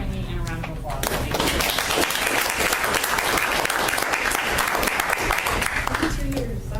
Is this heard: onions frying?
no